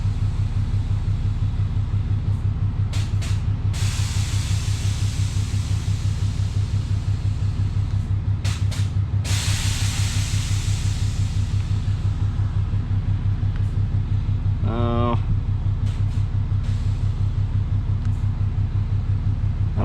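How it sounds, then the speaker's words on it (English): Air is let out of the suspension on one side of a truck in a few short, sharp hissing bursts, heard over the constant heavy rumble of the idling engine. "I'll drop air out on one side at a time, I guess."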